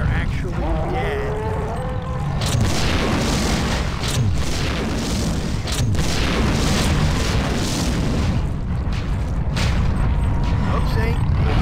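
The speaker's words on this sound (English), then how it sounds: "Psy Reavers explode in chunks" Psy Reavers blowing apart in chunks in System Shock 2, heavy booming bursts that repeat over several seconds amid dense game noise, with a voice talking over them.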